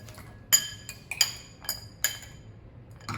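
Gushers candy being stirred in a bowl, giving a handful of bright, sharp clinks spaced irregularly, close and fairly loud against a quiet background with no talk.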